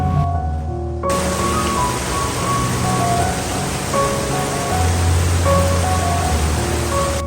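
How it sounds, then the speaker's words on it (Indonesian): Steady rain falls outside a house in the morning, a dense, even hiss of drops on surfaces that runs unbroken from start to finish with a low rumble beneath, close and fairly loud with no talking. "pagi ini cuaca di rumahku sedang turun hujan"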